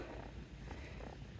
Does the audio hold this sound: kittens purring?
yes